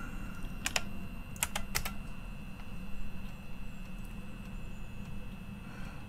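A few quick keystrokes on a computer keyboard click in short clusters near the start, fairly close, over a steady background hum and faint electronic whine.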